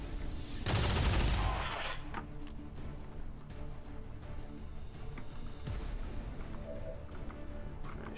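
A loud burst of gunfire erupts early in a round of the tactical video game XCOM 2, followed by quieter game ambience, background music and a fainter later crack.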